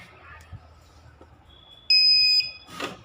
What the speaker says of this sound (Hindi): तो ये इसकी बीपिंग आवाज़ होती है।